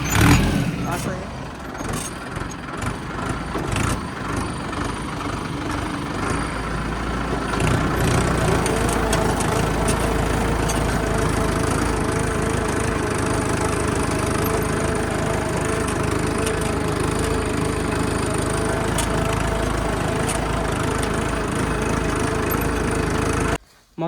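A farm tractor engine running in first gear on a rural field track, a continuous close mechanical drone that steadies into an even hum, with someone talking over it before the sound cuts off abruptly.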